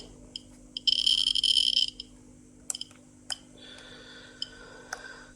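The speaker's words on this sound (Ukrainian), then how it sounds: "ставити на паузу і буде чути тільки клацання, щелчки" A Geiger counter dosimeter clicking with its alarm paused: sparse, irregular sharp ticks spread over several seconds, with a brief steady electronic tone early on and a faint background hum.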